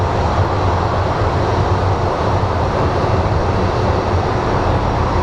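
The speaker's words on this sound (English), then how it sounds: "Little Embraer." A small Embraer airliner at Phoenix Sky Harbor International Airport gives a loud, steady broadband jet-engine roar heard close by, continuous and unchanging with no talk over it.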